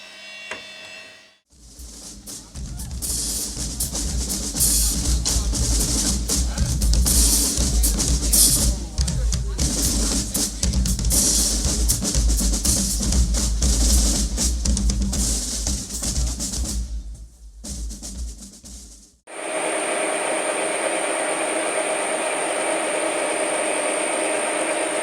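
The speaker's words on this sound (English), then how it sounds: "As you can hear, this is quite a silent" A Schaublin lathe with variator drive boring with a carbide tool runs as a steady, close machine whir for most of the stretch, dropping out briefly near the end before a thinner hum returns.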